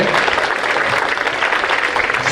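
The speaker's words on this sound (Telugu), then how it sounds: "గట్టిగా చప్పట్లు కొట్టి అందరినీ ఆహ్వానించాలి" Sustained applause from an audience at a school science fair, a dense and steady wash of clapping that holds for the whole stretch without a pause.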